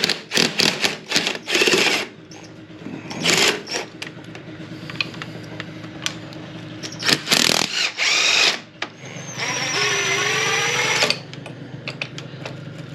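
A power tool removes valve cover bolts on a DRZ 125 motorcycle, sounding as several short, close whirring and rattling bursts with pauses between, the last one a longer rising whine.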